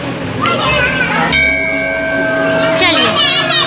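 Children ring temple bells after a puja: bright metallic tones ring out repeatedly with long shimmering sustain, clanging over a busy background of voices.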